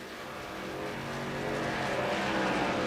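Race cars roar in a steady, rising drone as they follow a pace car in a superspeedway racing game, a continuous dense engine sound that grows slightly louder throughout, with no talk over it.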